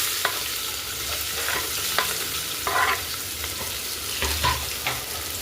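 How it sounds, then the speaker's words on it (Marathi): Finely chopped onion and bay leaf fry in a pan for a chicken gravy, giving a steady, close sizzle with occasional spatula scrapes and stirring knocks. No one speaks. "आता याच्यामध्ये आपण बारीक चिरलेला कांदा घालून घेऊ"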